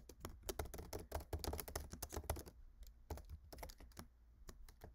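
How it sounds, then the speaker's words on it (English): Rapid typing on a computer keyboard while entering git config commands for setup, a dense run of clicky keystrokes that thins into sparser, separate taps toward the end, close and fairly quiet with no talking. "You should type git config dash dash global user dot email and then type your email."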